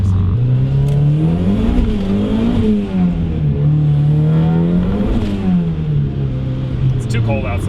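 A turbocharged Mazda Miata on its stock motor revs up and down in repeated close, loud sweeps of engine pitch, driven on a cold, wet day, with the engine note rising and falling steadily throughout.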